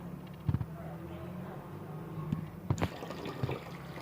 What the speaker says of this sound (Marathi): झालं पाणी टाकून तुझं?